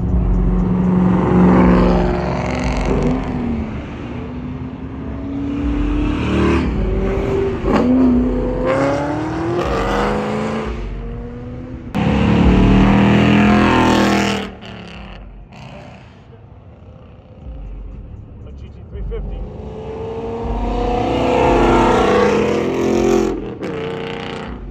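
Ford Mustangs including a GT500 and Mach 1 at a beach car meet, loud engines revving and roaring past one after another, rising and falling whines over crowd noise.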